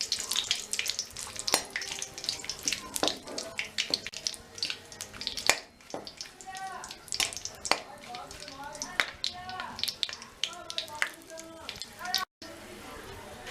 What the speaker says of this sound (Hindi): घी में हम तेजपत्ता डालेंगे और ये दालचीनी, इलायची और लौंग डाल देंगे।